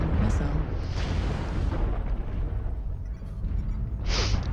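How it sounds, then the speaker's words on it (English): An incoming missile strike in MechWarrior Online lands as a dense rumbling blast with roaring debris, followed by a short sharp burst near the end. "Incoming missile."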